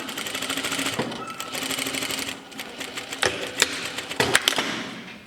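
Domestic sewing machine stitching close along the fold of a shirt lapel, running in steady continuous bursts with a few sharp clicks and thumps near the end, close and moderately loud.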